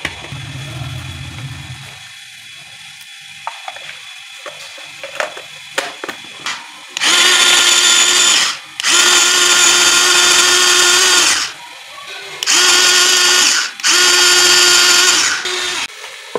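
Garlic is crushed in an electric chopper while making aloo chicken pulao: two loud, steady motor whirring bursts of several seconds each, with a short pause between, following quieter kitchen clatter.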